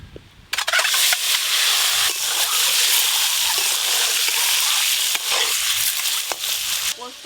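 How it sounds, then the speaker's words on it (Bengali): Eggs seasoned with salt and turmeric fry in a pan for an egg curry, a loud, steady sizzle with bright hissing that starts abruptly and continues with occasional clinks and shifts. "ডিমগুলো সব ভালো করে ভেজে নেব।"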